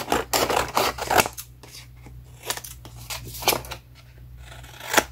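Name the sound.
cutting paper for a scrapbook mini album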